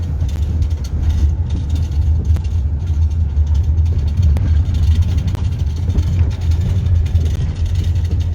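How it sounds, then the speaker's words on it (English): A tractor working on road construction on a Benin City street, a steady low diesel rumble with scattered clanks and scrapes, fairly close and continuous with no talk. "So you can see the tractor is working."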